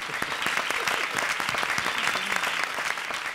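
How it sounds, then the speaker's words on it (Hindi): A room full of people breaks into steady, dense applause, an even wash of clapping that holds for a few seconds without letting up. "आप दोनों को ढेर सारी तालियां मेरी तरफ से"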